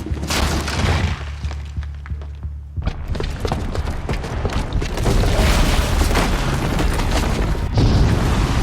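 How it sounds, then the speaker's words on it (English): A bomb rigged with a booby trap goes off in Horizon Zero Dawn, a loud, sustained booming blast with rumbling debris and crackling that keeps roaring for several seconds. "the booby trap on the bomb downstairs is gonna get set off"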